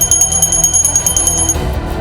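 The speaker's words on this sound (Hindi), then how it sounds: "मंदिरों में घंटियां, घंटियों के स्वर" Temple bells ringing at the Mahakumbh Mela in Prayagraj, a fast, bright, metallic ringing that rattles on loudly for about a second and a half, then stops and leaves a low hum.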